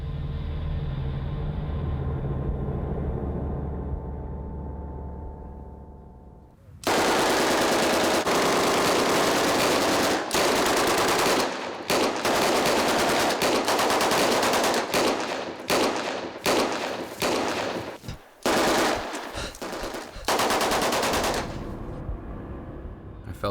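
Gunfire sound effect from a war documentary: after a fading low rumble, dense rapid machine-gun bursts and rattling shots fill the air loudly, with brief gaps between volleys.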